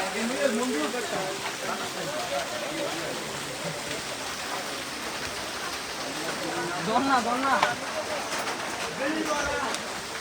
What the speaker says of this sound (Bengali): বাইরে প্রচুর বৃষ্টি করে সবাই সাইডে বেশি হচ্ছে